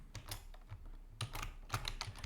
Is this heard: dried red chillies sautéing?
no